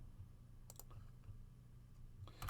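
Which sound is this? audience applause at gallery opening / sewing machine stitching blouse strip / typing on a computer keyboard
typing on a computer keyboard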